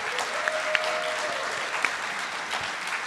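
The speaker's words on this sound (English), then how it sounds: "Everybody give them a round of applause." Applause from an audience honouring high school teachers at an alumni achievement award ceremony, a steady soft wash of clapping with a few sharper claps standing out, moderately distant and continuous throughout.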